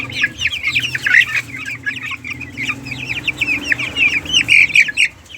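Several farm chickens cluck and chatter near and loud in a repeated, busy stream, with a soft low hum underneath and no one talking; the flock includes month-old Sebright and Texas birds.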